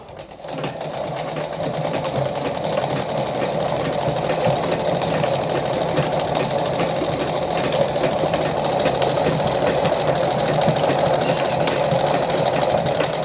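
A Lada model 237-1 sewing machine stitching steadily, a continuous close, even mechanical whir with fine rapid needle rattle holding constant throughout.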